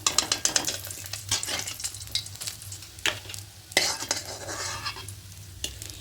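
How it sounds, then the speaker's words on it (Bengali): Pabda fish frying hard in hot oil sizzle with a rough, crackling hiss, punctuated by repeated scraping and stirring clatters of a utensil against the pan, close and fairly quiet, with no talking. "খুব কড়া করে ভেজে নিচ্ছি মাছগুলো"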